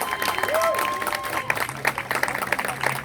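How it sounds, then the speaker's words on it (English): Crowd applause at an outdoor protest in Trenton, a dense wash of clapping from a sizable group, steady through the clip and rising into sharper claps near the end, with faint voices and a brief whistle mixed in. "you can clap better than that for Grosse Ile"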